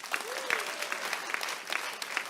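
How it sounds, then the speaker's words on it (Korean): An audience applauds at a political party concert event in a hall, a short burst of crowd clapping with a faint voice briefly audible underneath. "박수 한번 주시죠."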